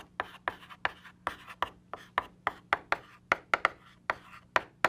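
Chalk or a marker on a board writing out the Euler formula, a quick series of sharp taps and short scratchy strokes in an uneven rhythm, close and clear with no talking.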